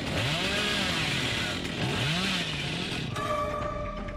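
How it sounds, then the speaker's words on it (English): Chainsaw revving in the horror video game Dead by Daylight, a loud continuous motor whine rising and falling in pitch, then shifting to a steadier buzzing tone near the end. "You just ran into my chainsaw,"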